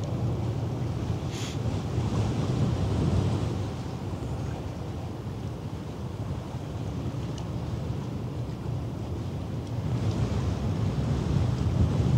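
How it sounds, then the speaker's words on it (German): A strong gust of wind sweeps across a harbor at night, roaring steadily and broadband close to the microphone, with water and surf washing underneath, swelling again near the end. "Böe, eine Böe."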